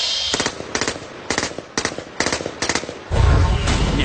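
Heavy large-calibre gunfire cracks out in loud, sharp bursts of rapid shots separated by short pauses, ending in a sustained deep boom.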